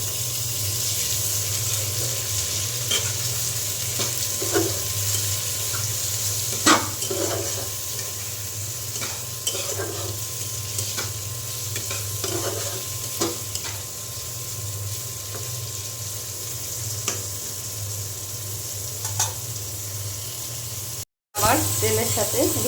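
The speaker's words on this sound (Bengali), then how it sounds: "আমি এখন এই যে হলুদ মাখিয়ে রাখা চিংড়ি মাছ দিয়ে দিলাম।" Turmeric-coated shrimp frying with fried onion in oil, a steady close hiss of oil broken by scattered stirring knocks and scrapes, with no talking and a brief drop to silence near the end.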